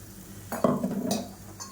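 Gravy being stirred in a pot while it is brought to a boil for a Tamil kulambu, with a few soft scraping and clinking strokes of a utensil against the pot, near and fairly quiet.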